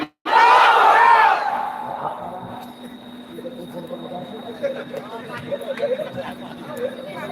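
A crowd at a Bangladeshi religious gathering shouts a takbir chant in reply, a loud massed roar that swells for about a second and then gives way to scattered murmuring and chatter.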